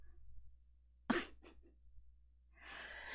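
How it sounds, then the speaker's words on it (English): A single sharp sneeze bursts out indoors and rings briefly with an echo, followed by a quieter breath and later a soft rustle against a low steady hum. "that was like one of those Ricola sneezes where it just echoed"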